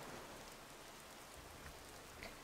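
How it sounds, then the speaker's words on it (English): Steady rain ambience in the video game Gothic 2, a dense even hiss of falling rain and pattering drops, faint and constant with no voices. "I hear the raining, but I see no raindrops, nothing."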